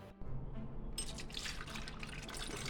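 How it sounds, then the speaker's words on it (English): Cream and milk custard mixture pours into a big jug in a steady, splashy liquid stream that starts abruptly and keeps flowing, fairly quiet and close. "And then pour it into a big jug like I did here."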